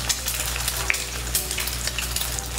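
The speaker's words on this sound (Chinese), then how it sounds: "先煎蛋" Eggs fry in a hot wok for fried rice, giving a steady, dense sizzle that crackles close by throughout with no talking.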